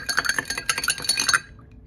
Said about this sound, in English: go ahead and mix it up.